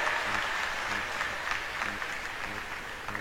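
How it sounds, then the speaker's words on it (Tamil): Audience applause at a college literary association inaugural function, a steady dense wash of many hands clapping throughout, moderately loud with no talk over it. "நல்ல மகிழ்ச்சியா கைத்தட்டுங்க."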